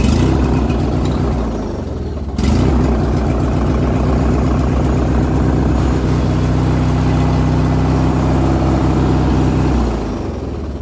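A Poulan Pro 48-25 riding mower engine, its safety wiring bypassed, runs loud and close with a steady idling chug, briefly dipping before resuming and holding without stalling.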